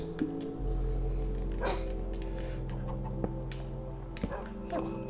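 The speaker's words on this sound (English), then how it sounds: "So I have an army of dogs down here with me" Minecraft dogs bark and yip in short scattered bursts over a steady low game hum, several of them at a moderate distance.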